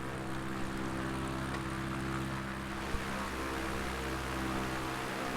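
An X-Cub light aircraft's propeller engine drones steadily in flight on approach, a loud continuous hum with a strong harmonic tone that holds even throughout.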